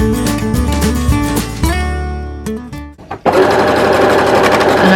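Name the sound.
sewing machine sewing fabric with longest stitch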